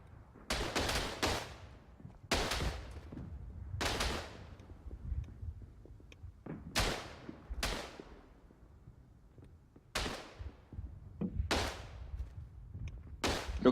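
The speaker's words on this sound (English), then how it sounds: "with like this middle area in the trench being left open and both teams just shooting at each other" Rifle and machine-gun fire from both teams in a Verdun trench battle, France against Italy, in a World War I shooter game. Loud, sharp volleys burst every second or two, each with a decaying echo, and nobody speaks.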